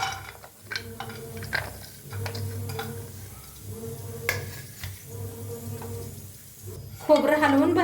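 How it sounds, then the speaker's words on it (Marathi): Dried coconut stir-roasted in a pan for a dhaba-style egg masala curry, with steady soft sizzling and repeated scrapes and clinks of the stirring spoon against the pan, close and continuous throughout. "खोबरं हलवून भाजून घेऊया।"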